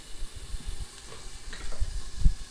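Butter sizzles and fries in a pan as a roux for béchamel begins, with intermittent stirring scrapes and soft low thumps over a steady, moderate crackle.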